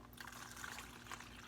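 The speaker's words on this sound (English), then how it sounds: "So we put water in it" Water poured into a tray of sand modelling a beach and empty ocean, a soft continuous splashing trickle against low background hum, faint and steady.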